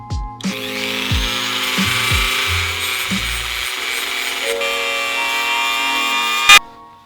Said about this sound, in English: I have my old dremel tool. I'm gonna start shaving some of the little edges off.